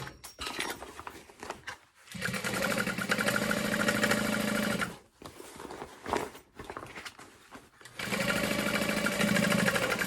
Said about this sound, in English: So then I'm just going to sew about 1/4 inch seam allowance again